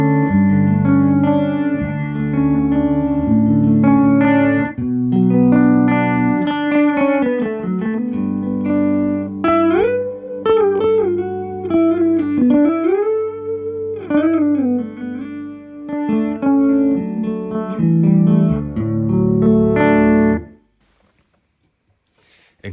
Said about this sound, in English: And now we are in chorus territory.